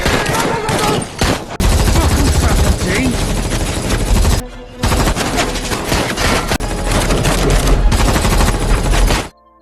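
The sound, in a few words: gunfire exchange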